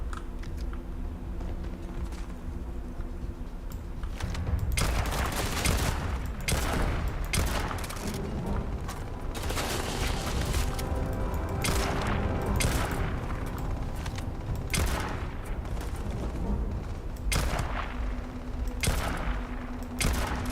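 Turret gunfire in Starfield rattles in long, dense automatic bursts for most of the stretch, loud and near, after a quieter start with a steady hum, with sharp cracks breaking through the volley.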